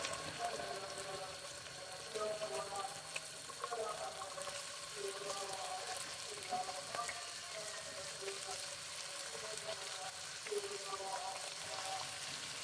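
Meat and sausages frying in oil, a steady crackling sizzle with rapid spitting pops and a faint voice speaking in the background.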